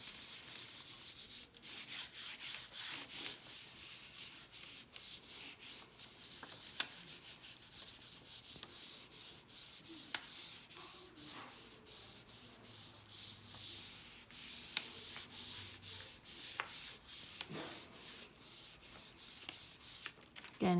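A hand rubs paper against a marker-inked relief print block, giving soft, continuous scratchy swishes in quick repeated strokes, faint and close, with no talking.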